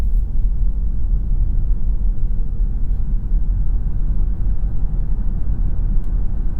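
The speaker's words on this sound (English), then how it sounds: "Hear the engine kick on." Gasoline engine of a 2026 Lexus NX 350h hybrid compact luxury crossover, a 2.5-liter unit, kicks on while pulling away from a light, a steady low rumble that holds evenly under road noise throughout.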